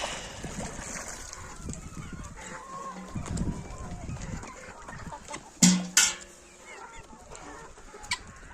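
Chickens in a farmyard, including a young rooster and Leghorn hens, cluck and call intermittently near and far, with two sharp louder squawks partway through and a person talking in the background.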